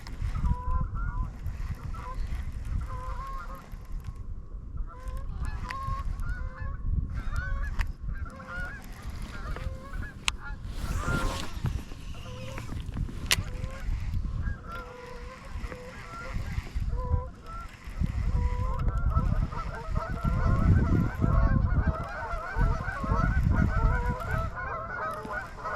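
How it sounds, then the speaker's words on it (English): Geese honk loudly and steadily on Lake Murray in winter, a dense chorus of overlapping calls that runs throughout, with faint water and boat rumble beneath. "Well, if these birds would shut up."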